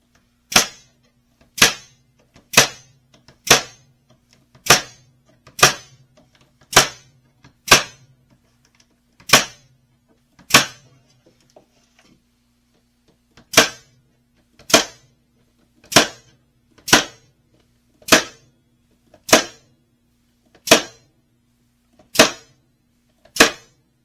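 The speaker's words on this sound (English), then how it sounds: "when I shoot the staples in them, it's already kind of locking them into where they go." A Ridgid staple gun drives staples into wooden honey frames: sharp, loud, close single shots at a regular pace of about one per second, a pause midway, then another even run, with near silence between shots.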